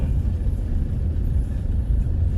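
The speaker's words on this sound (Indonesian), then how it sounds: "Tuh saya dengar suara turbonya tuh bus" Turbo of a Toyota Kijang Innova with the 2KD diesel engine while driving, heard as a steady low rumbling drone with a constant engine hum inside the cabin and no voices.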